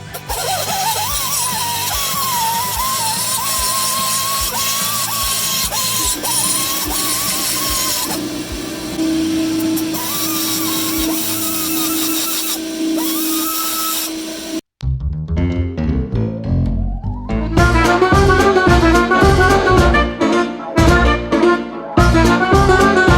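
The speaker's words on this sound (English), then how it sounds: "we're going to clean up this crack, and we're going to try and gouge out a little bit of room for a new fresh weld bead" Grinding tool gouging out a crack in a stainless steel 3800 V6 exhaust manifold, a loud continuous whining grind that shifts pitch with pressure, a brief pause, then harsher rising tool noise, close with no talking.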